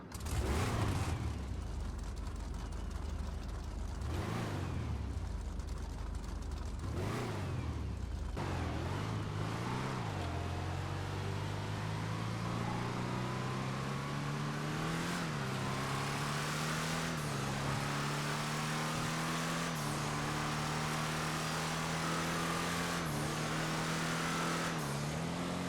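A car in GTA Online revving through several gears, its exhaust note rising in repeated sweeps after a few short blips, loud and steady throughout with no voices.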